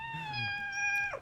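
A cat gives a single long, clear meow with a steady pitch that slides down at the very end, close and fairly loud over a quiet room.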